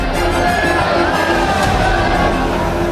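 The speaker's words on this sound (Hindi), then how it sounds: "भीड़ संभल नहीं रही है।" A large, dense crowd of devotees cheers and shouts continuously in Ayodhya, with whoops and children's cries rising out of a loud, steady roar that fills the whole space.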